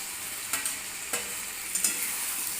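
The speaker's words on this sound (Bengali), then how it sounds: "ভেজে রাখা সবজিগুলোকে এখানে দিয়ে দিলাম" Fried vegetables for Bengali shukto go into a hot pan and are stirred, giving a dense steady sizzle broken by a few scraping spatula strokes, close and fairly loud.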